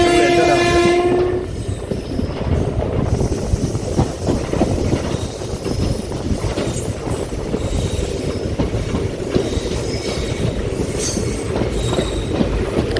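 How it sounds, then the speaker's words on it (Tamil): An unreserved express train on the Mannargudi to Mayiladuthurai line runs with a steady loud rumble and rattle of wheels on track, opening with a brief horn blast before the rolling noise continues alone. "ஃப்ரெண்ட்ஸ், வண்டி இப்போது மயிலாடுதுறை டிஸ்ட்ரிக்டில் என்டர் ஆகுது."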